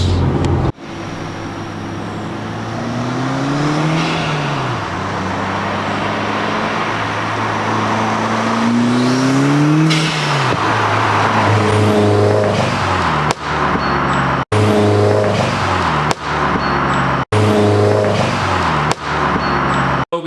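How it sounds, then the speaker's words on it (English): A car fitted with a Cobb bypass valve revs up repeatedly in rising engine sweeps, followed near the end by several abrupt, sharp releases cutting through the loud engine noise. "We just got back from recording all of the sound clips of the bypass valve onto my car."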